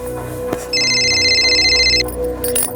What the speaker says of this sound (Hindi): बघा कुणाचा फोन आहे